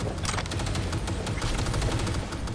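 Rapid, dense gunfire from the video game Cyberpunk 2077 runs throughout as loud, sustained bursts of repeated shots with no pauses.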